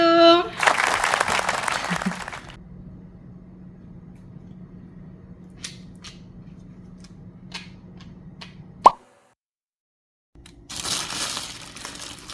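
A short burst of hand clapping from a few people at home while making Chuseok songpyeon rice cakes, lasting about two seconds before the room goes quiet apart from a low hum and a sharp knock.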